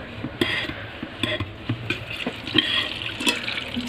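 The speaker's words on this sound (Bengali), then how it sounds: "দেখতে পাচ্ছ জল পড়া শুরু হয়ে গেছে।" Water from an aquarium pump in a zebra fish tank beginning to pour and splash, heard as close, uneven trickling with intermittent sharper splashes and clinks over a low background.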